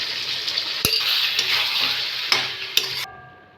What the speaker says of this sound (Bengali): করলার সঙ্গে ভালো করে কষে নেবো। আলু করলা সব একসঙ্গে।